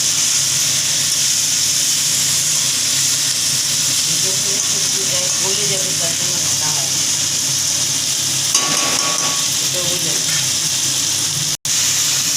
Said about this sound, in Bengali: একটু ভাজা হয়ে এসছে, আমরা আবার একটু নেড়ে নিচ্ছি।